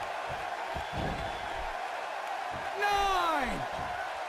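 Wrestling arena crowd in the WWE 2K16 video game, a continuous roar that swells near the end under steady play-by-play commentary and a long falling whistle-like tone.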